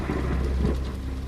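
Steady heavy rain on a stormy night near a canal, with a deep rumbling undertone like thunder, dense and loud throughout with no voices.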